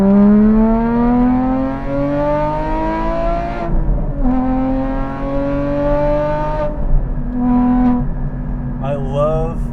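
A 2016 Porsche Cayman GT4 engine revs hard under full throttle, its pitch climbing steadily through several long pulls with brief breaks for gear changes, loud and close from inside the car.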